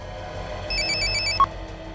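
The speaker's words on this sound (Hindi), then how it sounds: "किसका फोन है? पता नहीं सर, कोई अननोन नंबर है सर।" An unknown caller's phone rings once with a short burst of electronic trilling pulses, clear and close in a quiet room, followed by a single sharp beep.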